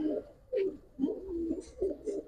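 A young male Giribaz pigeon coos repeatedly up close in a rhythmic series of warbling, rolling calls with brief gaps between them.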